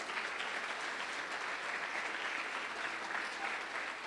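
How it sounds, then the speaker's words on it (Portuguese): A church congregation claps together in worship, a dense, steady wash of applause with no talk over it. "Aleluia, aplauda o Senhor"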